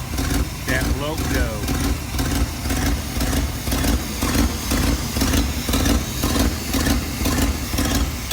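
The engine of a 1987 Chevrolet Suburban running steadily with a throbbing, even drone, close by, while people talk over it.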